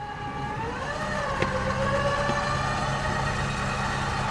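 A tracked recovery truck in drive crawls slowly ahead on a logging trail, its engine a steady low drone that rises slightly, with a faint clank partway through.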